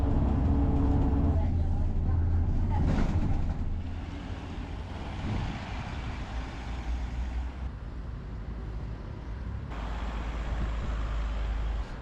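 The inside of a Transport for Cornwall bus running from Hartland to Bude, full of school kids, with a continuous low engine drone and road rumble that shifts in loudness, and voices murmuring underneath.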